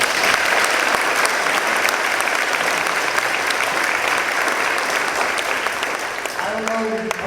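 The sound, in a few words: audience applause at induction ceremony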